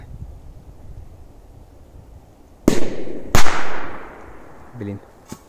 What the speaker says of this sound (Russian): Два взрыва.